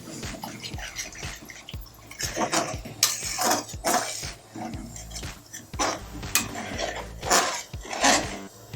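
Mutton kanji with grated coconut and masala is stirred in a pot, giving irregular scraping clinks of a spoon against metal and wet, sloshing pulls through the thick mixture.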